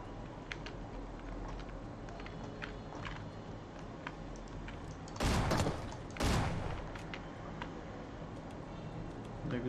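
Two loud shotgun blasts about a second apart ring out in a PUBG Mobile match on the Miramar desert map, over faint game ambience, footsteps and light clicks.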